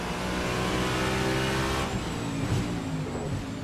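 A GT3-class race car engine in Assetto Corsa drones loud and steady, revving with a strained mechanical roar that shifts pitch slightly near the end.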